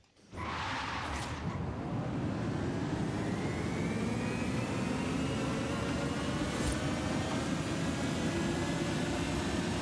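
The Italdesign Davinci Concept electric car in Forza Horizon 5 revs with a steady, loud electric-motor whine whose rising tones sweep upward over a constant broadband rush.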